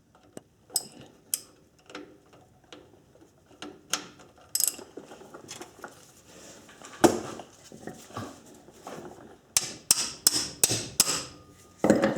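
A T70 star bolt being loosened with a 1/2 inch drive ratchet during a differential seal job, giving bursts of close, sharp ratchet clicks with knocks and metallic clatter in between.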